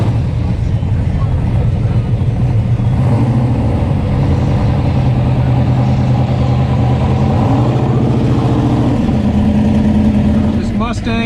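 A 520-cubic-inch big-block Mustang drag car with big drag radials and an open body idles and revs loudly and steadily up close before a race, with people talking over the engine.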